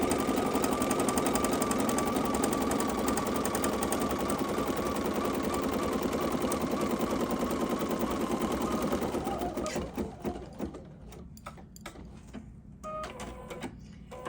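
An embroidery machine stitches a tack-down placement stitch in rapid, steady mechanical chatter, loud and close, for about nine seconds, then slows and stops into sparse clicks and handling noises.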